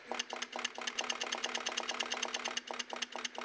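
Homemade 2D dot matrix printer setting black dots at high resolution, a rapid, even stream of mechanical clicks over a steady motor hum, close and without speech.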